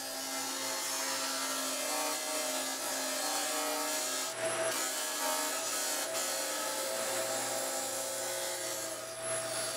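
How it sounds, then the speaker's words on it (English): Disc sander shaping an MDF piece for a yard game, a steady whirring motor hum with a continuous abrasive rubbing hiss, briefly easing off midway, close and without talk. "Then I took it over to the disc sander and I finish shaping it up to the line."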